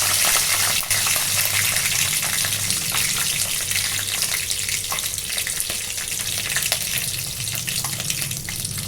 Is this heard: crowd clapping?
no